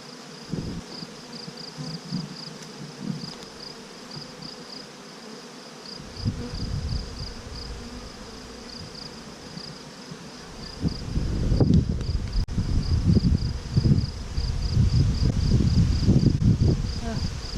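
Russian honey bees buzz around an open hive during a June hive inspection. A steady drone of insects carries throughout, and louder close rustling and buffeting join in the second half.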